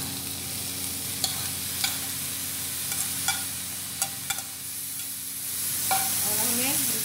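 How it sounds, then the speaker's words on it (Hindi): Onions frying in a pan for chilli paneer, a steady close sizzle with occasional light clinks of a spatula against the pan and a brief rise in the frying noise near the end. "अभी हम जो है अनियन इसमें डालेंगे"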